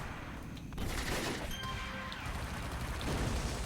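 An auto turret firing in the City of Heroes video game, a rapid burst of shots with a few sharp pings, fairly quiet and close with no talking.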